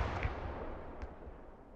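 Gunfire in the military shooter game Squad, a few muffled distant booms, one at the start, one a quarter second in and another near one second, fading into a rumbling tail.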